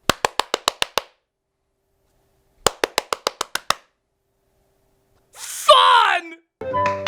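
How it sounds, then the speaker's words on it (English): Hands clap in two quick rhythmic bursts of about six sharp claps each to steer a robotic toy cat, separated by silence, followed by a voice and a synthetic electronic chirp from the toy. "His sister made it go right or left just by clapping her hands."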